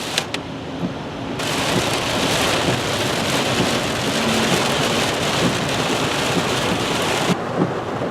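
Heavy rain drums loudly and steadily on a car while driving, a dense, continuous roar that swells in after a moment and holds before easing back near the end.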